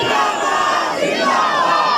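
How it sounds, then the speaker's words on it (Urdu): At a Milad procession, a large crowd loudly chants a religious slogan in unison, a dense, roaring wall of massed voices held steadily for the whole stretch. "اب ذرا بلند آواز سے 2 نعرے لگائیے"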